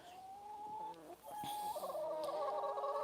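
Chickens clucking and calling close by in their garden run, a steady run of overlapping clucks and squawks that grows busier toward the end.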